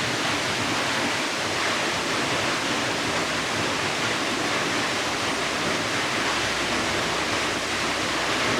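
A waterfall in the Cambará do Sul canyons pours with a constant, dense roar of falling water, loud and unbroken throughout with no voices.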